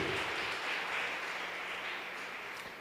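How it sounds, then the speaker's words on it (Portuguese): A church congregation applauds the Lord, a steady wash of clapping from many hands at a distance, quiet and even, with no voices over it. "Você pode aplaudir o Senhor?"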